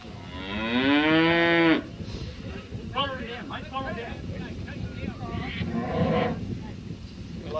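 At a mountain cattle sale, a cow gives one loud, long moo up front, then an auctioneer talks steadily over the murmuring, busy sale ring.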